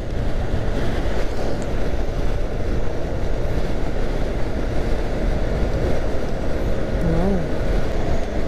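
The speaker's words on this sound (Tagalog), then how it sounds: "Ang lakas ng hangin." Strong wind buffeting riders on a 2021 Yamaha Nmax scooter on a long highway ride, a steady loud roar with no break for the whole stretch, passing trucks adding to the rush.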